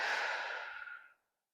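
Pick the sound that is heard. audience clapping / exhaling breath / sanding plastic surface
exhaling breath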